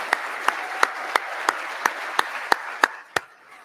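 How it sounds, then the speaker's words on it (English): An audience at a national seminar opening ceremony claps for presenters on stage in slow, evenly spaced unison beats, about ten sharp claps at a steady rhythm before stopping. "Let's give all our presenters that are on stage a round of applause"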